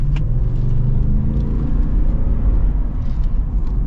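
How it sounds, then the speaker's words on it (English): A Toyota Land Cruiser's big V8 engine pulls hard under acceleration, a loud, steady, close-up rumble from inside the cabin with no talking. "kind of see what the acceleration's like here"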